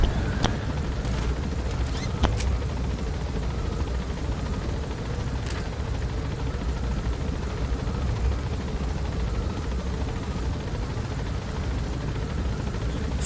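A golden helicopter in Metal Gear Solid V: The Phantom Pain makes a constant, loud rotor drone that fills the scene, broken early on by a few sharp bangs like gunfire.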